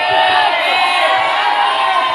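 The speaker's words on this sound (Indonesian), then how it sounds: "Tepuk tangan. Luar biasa." An audience at a traffic-safety talk given by a police officer claps and cheers loudly and continuously, a dense wash of applause with scattered shouts.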